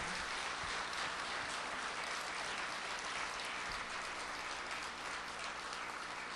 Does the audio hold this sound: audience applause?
yes